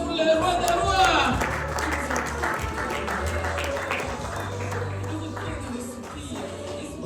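A church congregation breaks into applause at a lively service, a dense, steady wash of clapping mixed with cheering and voices, loudest at the start and easing slightly over seven seconds.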